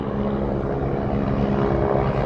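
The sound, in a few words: Air Force helicopters flying overhead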